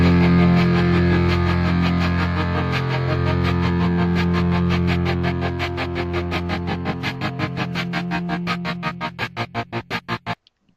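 A heavily processed guitar intro with lush reverb and effects, sustained tones that break into a rapid pulsing tremolo before cutting off.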